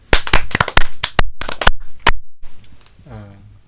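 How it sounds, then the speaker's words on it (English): A classroom of students claps in a short burst of sharp, close, uneven handclaps that stop after about two seconds, followed by a voice speaking. "Merci beaucoup. Applaudissez."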